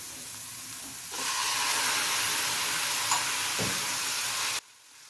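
Onion and tomato sautéing in a pan for matar paneer, a steady close sizzle and hiss that rises sharply after a second and holds loud, then stops abruptly near the end.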